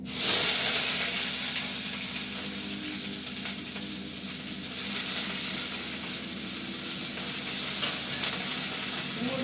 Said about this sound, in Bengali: কপিটাকে ভালো করে আগে ভাজবো